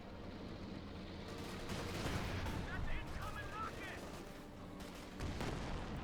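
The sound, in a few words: bazooka fire in Company of Heroes 2 video game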